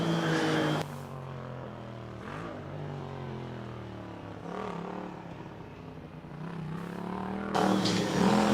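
A Formula Student race car on the practice track at the FSG22 driverless event, its engine a loud buzzing drone that rises and falls as it revs, with harmonic tones sweeping up and down and a brief engine-free gap early on.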